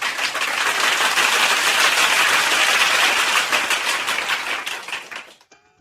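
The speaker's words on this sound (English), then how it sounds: "Give us a round of applause" Crowd applause at a sports talk show, a dense wash of clapping that holds steady for several seconds before tapering off and stopping abruptly.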